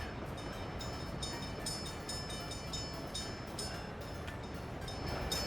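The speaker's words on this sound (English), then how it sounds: "I sure do love trains." Steady rolling rumble of a train running in the city-building game Workers & Resources: Soviet Republic, with faint rhythmic clatter throughout and no talking.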